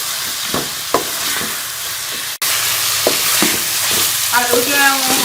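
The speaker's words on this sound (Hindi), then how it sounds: "मसाले को जो है वो आलूओं के साथ अच्छी तरह से भून लेंगे करके" Potatoes and spices fry in a pan for aloo ki katli with a loud, continuous close sizzle, broken by stirring scrapes and a momentary dropout.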